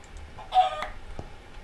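Chickens in the Minecraft StoneBlock modpack, heard as a brief burst of clucking and squawking near the middle, then a faint click, with the clip otherwise quiet.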